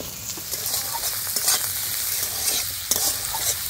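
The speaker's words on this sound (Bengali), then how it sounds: "এবার ওর মধ্যে আলুগুলো দিয়ে দেবো।" Potatoes tossed in with frying onions hiss and crackle in a hot pan, with spatula scrapes and stirring knocks recurring over the constant sizzle.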